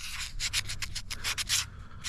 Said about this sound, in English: go lengthwise with our sanding strokes over the whole entire sheath